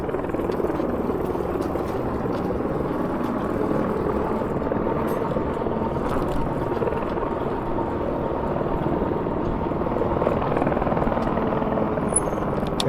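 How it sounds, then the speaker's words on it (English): A helicopter passes overhead on a dark early-morning eBike ride near a freeway interchange, heard as a steady, broad rotor drone that fills the whole stretch along with wind and road noise. "You guys can probably hear the helicopter."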